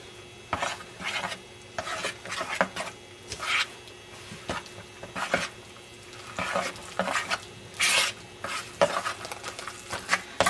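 A spoon stirs a Parmesan-thickened cheese sauce for lasagne in a pan, making repeated scraping, clattering strokes at an irregular rhythm, close and moderately loud with no voices.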